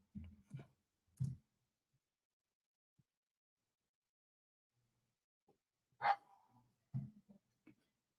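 A small dog gives a few short, soft barks and yips in a quiet room, spaced apart with pauses between them.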